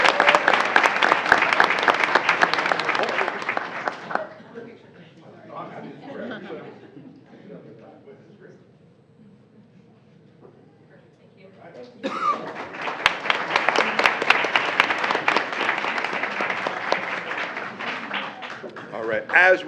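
Applause at a school board meeting honoring a student and her family: a room of hands clapping loudly, fading to quiet murmur and chatter midway, then swelling again into strong, sustained clapping with some chuckles.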